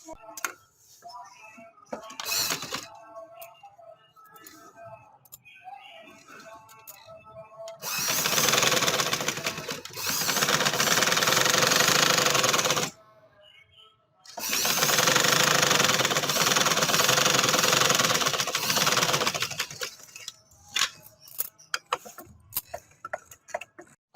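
A sewing machine stitches lace onto ribbed, bias-cut trouser fabric in two long, steady runs of loud, close whirring, separated by a short pause, with quieter handling clicks and rustling before and after.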